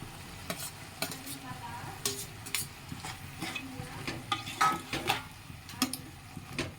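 Prawns are stirred into a curry in a pan, with repeated rhythmic spoon scrapes and clinks over a low, continuous sizzle.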